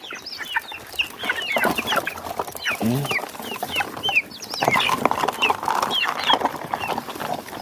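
Hungry chickens cluck and squawk in busy overlapping bursts, close and lively, with a brief word from a person among them.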